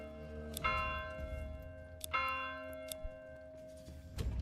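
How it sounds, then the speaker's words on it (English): A large bell in the Manor Lords video game rings out to rally villagers, with three loud, resonant strikes spaced about a second and a half apart, each leaving a long humming decay over a low rumbling background. "We are going to ring the bell."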